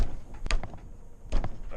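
Interlocking wooden deck cross members are knocked out of their notches, two sharp thuds about a second apart with smaller taps between, close by and without speech.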